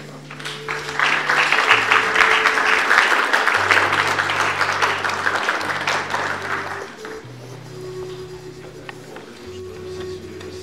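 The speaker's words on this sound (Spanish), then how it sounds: "Por favor, un aplauso para él." An audience at an academic philosophy lecture applauds a PhD speaker as he is introduced, a loud, sustained burst of clapping that thins after about seven seconds into a murmur over a low steady hum.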